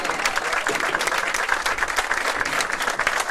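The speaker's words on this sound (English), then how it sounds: "What you hear the applause for Maddie Riva" Sustained applause from a crowd at a bowling final, dense clapping held at an even level throughout.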